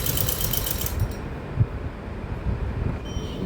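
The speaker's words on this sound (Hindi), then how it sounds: "अब इसको हम सिलाई कर लेंगे अच्छे से आसन की।" A sewing machine stitches the 15-inch seat piece of a salwar, giving a steady mechanical whirring hum that runs continuously throughout, close and moderately loud, with no talking.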